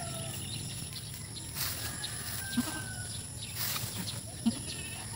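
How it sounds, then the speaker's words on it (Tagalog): Female goat on a farm in the early morning, with faint bleats amid steady rural background noise and brief calls near the middle and end. "Babae na kambing."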